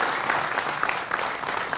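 Brief, fairly faint applause fills a TV studio debate show, a steady patter of clapping from the audience.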